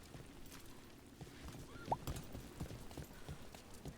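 Horse hooves clip-clop in the video game Dragon Age The Veilguard, a soft, uneven patter of steps at moderate distance over a low ambient bed, with one brief brighter squeak-like accent midway.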